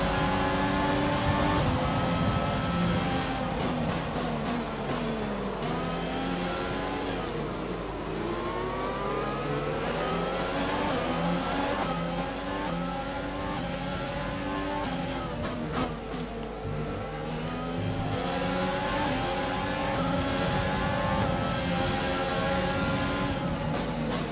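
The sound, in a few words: Formula 1 car engine revving, F1 2020 video game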